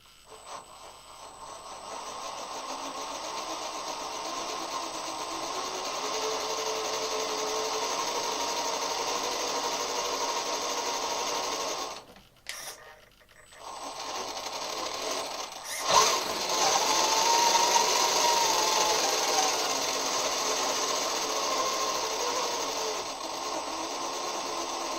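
CrossRC MC8 RC truck with metal front axles, its motor and drivetrain spinning up into a steady buzzing whir that dips and pauses briefly midway, then resumes slightly louder and rougher, heard up close.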